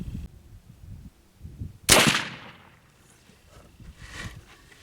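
A single sharp shot from a .36 caliber muzzleloader rifle cracks out loud and close, its report trailing off over a couple of seconds amid faint outdoor background.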